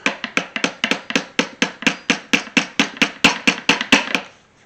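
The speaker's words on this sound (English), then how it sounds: "tap that down so far with the hammer" A hammer taps a part into a 1973-87 Chevrolet C10 squarebody vent window during a rebuild, about twenty sharp, evenly spaced metallic knocks close up, with no speech.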